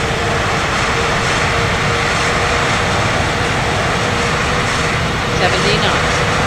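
Loud, steady roar of an A320neo's engines in reverse thrust during landing roll-out in Microsoft Flight Simulator, a dense broadband rumble that holds throughout with a voice calling out over it.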